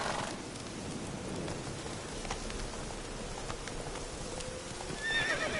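Roach, a horse in the video game The Witcher 3: Wild Hunt, gallops with a steady patter of hoofbeats over a wash of rain, and a brief neigh rises near the end.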